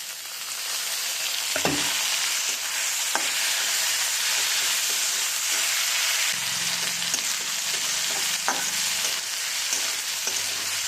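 Soaked dal with chilies and peanut powder sautés in a pan, a loud, even hiss of frying with a few scraping strokes of a spatula and low clatter against the pan.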